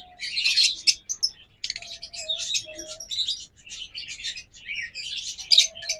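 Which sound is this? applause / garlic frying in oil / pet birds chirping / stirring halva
pet birds chirping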